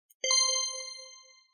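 A bright bell chime used as a cue for a hidden word in a cryptic crossword: one clear struck ding that rings out and decays slowly, heard alone.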